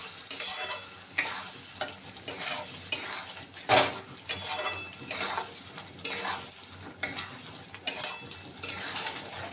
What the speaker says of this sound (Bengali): আর একটু কষিয়ে নেব দইটা দিয়ে